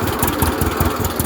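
A 1937 unstyled John Deere A tractor engine chugs close by in a loud, steady, rhythmic putting beat, running alone.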